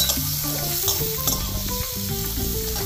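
Eggplant frying in oil in a pan with chopped onion and green chili for begun bahar, a steady close hiss of sizzling with faint stirring scrapes throughout.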